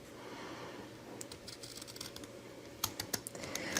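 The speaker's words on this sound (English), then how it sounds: "So we're going to use our scissors" Decorative scissors snip through paper for card making: soft crunching cuts, then a few sharper, crisp clicks of the blades, close and quiet, with no talking.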